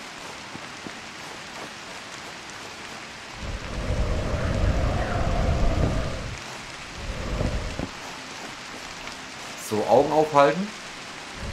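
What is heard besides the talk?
rain in the video game Citadel Forged with Fire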